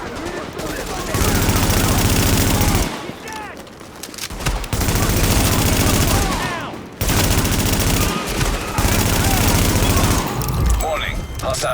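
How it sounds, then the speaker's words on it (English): Heavy sustained gunfire in The Division, a firefight at a park: dense automatic bursts of rifle fire, loud and close, broken by short pauses, with scattered background shouting. "JTF under heavy fire at the park on 1st."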